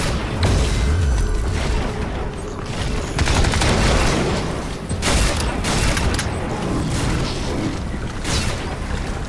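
A grenade blast in the first-person shooter Crysis 3, heavy booms and rattling gunfire running through a loud, dense battle din, with no talk.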